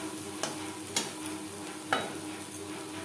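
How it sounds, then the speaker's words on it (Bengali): Spiny gourd and grated coconut stirred in a pan over a medium flame, a soft steady sizzle broken by a few sharp scrapes and clinks of the spatula, close and fairly quiet. "মিডিয়াম ফ্লেমে 2-3 মিনিট নাড়াচাড়া করে দেবো।"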